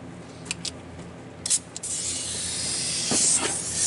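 Compressed air hissing from an air hose on a blade sharpening tool for a Woodmizer LT15 sawmill, a few short puffs first, then a steady loud hiss that runs to the end.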